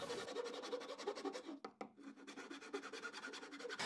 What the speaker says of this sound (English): With that sorted, you can clean it up with a rasp.